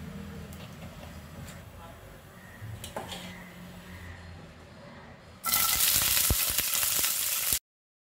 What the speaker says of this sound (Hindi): तो अभी मैं सब ये मसाला और धनिया पत्ता को फ्राई कर रही